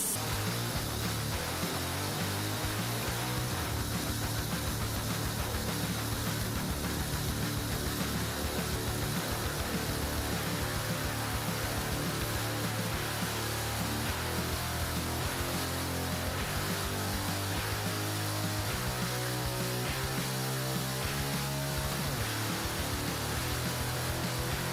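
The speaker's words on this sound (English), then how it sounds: "the sharp saw blade spins at high speed. The piercing sound of metal slicing through it fills the air" A high-speed saw blade cutting through wooden logs at a sawmill with a conveyor, a dense, unbroken whining roar with steady grinding, loud and close throughout without voices.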